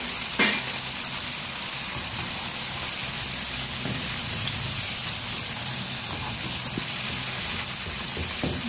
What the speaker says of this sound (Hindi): बाकी जो चिकन विंग्स रह गए हैं उनको भी फ्राई कर लेंगे